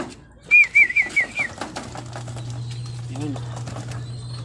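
Pigeons kept in a loft, with a clear run of whistling, cooing bird calls early on, then a steady low hum underneath and someone talking over it.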